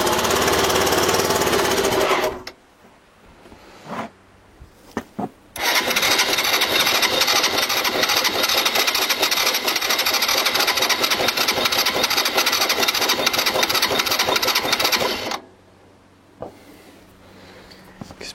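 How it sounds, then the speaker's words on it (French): A Suzuki DR 125 motorcycle engine that stalls when throttled roars loudly and roughly up close, cuts out into near silence with a few clunks, then revs hard again for about ten seconds before dying abruptly. "ça fait toujours caler si je mets un coup de gaz."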